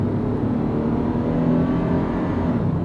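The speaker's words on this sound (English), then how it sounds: "I'm flooring it, by the way." A Toyota 4Runner engine strains at full throttle climbing a steep grade, a loud, continuous droning roar with a steady drivetrain whine and no speech.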